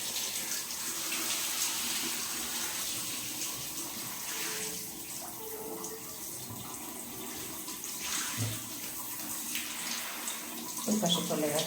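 Water runs steadily from a shower tap while a German Shepherd or Labrador is bathed indoors. The spray is a soft, continuous hiss, with a few faint splashes and clatters, and a voice speaks quietly now and then.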